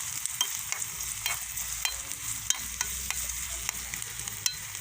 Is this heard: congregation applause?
no